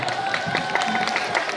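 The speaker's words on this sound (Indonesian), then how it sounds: "kita berikan tepuk tangan yang meriah" A festival crowd at Jam Gadang applauds and cheers for the winning group, a dense steady wash of clapping and voices close by.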